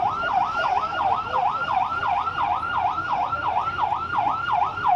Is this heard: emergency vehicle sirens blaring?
yes